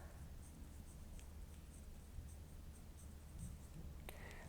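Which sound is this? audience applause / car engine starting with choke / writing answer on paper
writing answer on paper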